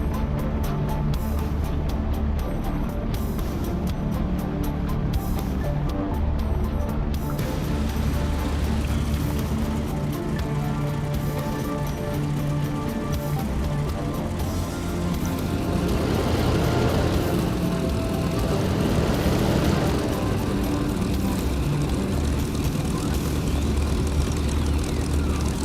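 Piston-engine airplane loaded with 2,000 pounds of explosives taking off from a short field, a loud continuous propeller drone that builds and swells midway, heard from close by.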